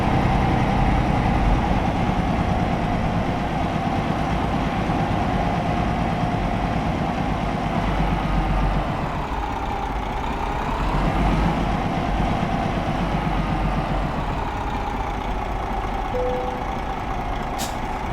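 A truck engine idles steadily in Euro Truck Simulator 2 while hauling timber, a continuous low rumble that stays loud throughout with a brief dip midway, plus a short reversing beep near the end.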